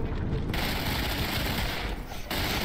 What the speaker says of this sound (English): I'm gonna use the incendiary shotgun and the SMGs.